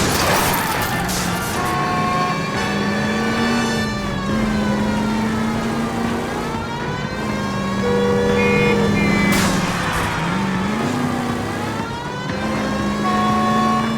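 A stolen green Kaiser Frazer car roaring through a chase in the video game L.A. Noire, a loud, sustained engine drone that rises and falls in pitch, mixed with wailing siren-like tones.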